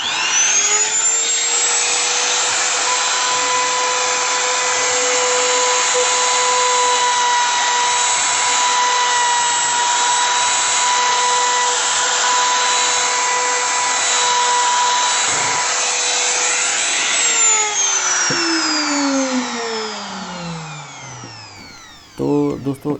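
A GAOCHENG GC-T036 trimmer router with a round-over bit runs steadily and loudly for about twenty seconds, rounding the sharp edge of a black-painted wood piece, then its whine falls away as the motor spins down.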